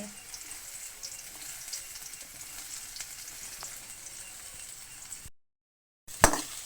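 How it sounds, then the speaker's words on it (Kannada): Chopped onions sizzling in a little oil for momo filling, a steady soft frying hiss close by that stops abruptly, followed by a brief clatter. "ಸ್ವಲ್ಪ ಎಣ್ಣೆ ಹಾಕ್ಕೊಂಡು ಆದಮೇಲೆ ಈರುಳ್ಳಿ ಹಾಕತ್ತೈತಿ"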